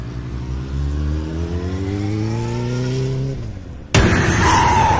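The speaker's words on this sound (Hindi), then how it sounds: "काली सड़क पर वो अपनी बाइक के साथ घसीटते हुए कुछ दूरी पर जा रुका" A cartoon motorbike crash effect on a road: a rising engine whine swells for several seconds, then breaks into a loud, harsh scraping skid at the end.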